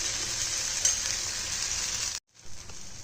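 Finger millet and wheat instant dosa batter fries in oil on a hot pan, a soft, continuous hiss that cuts out abruptly for a moment and then resumes more faintly.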